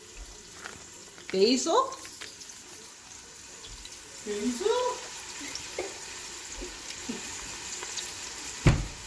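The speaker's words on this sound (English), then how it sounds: "show the onions cooking in the pot" Onions for a sauce fry in a pot with a soft, steady sizzle and a few light clinks, heard beneath people talking.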